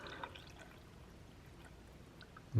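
Room-temperature water poured from a container into a pan to fill it to a marked line: a faint, steady, quiet splashing trickle that continues without pause.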